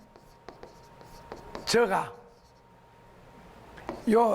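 A pen scratches out a Bible verse on paper in short strokes, close and quiet, as someone speaks briefly in Korean in the middle and again at the end.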